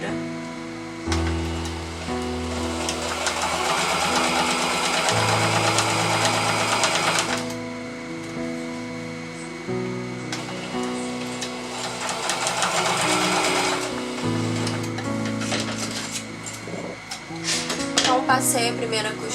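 A sewing machine runs in bursts, stitching fabric for a doll carrier, its motor whirring loud and close with rhythmic needle clatter, pausing briefly between seams.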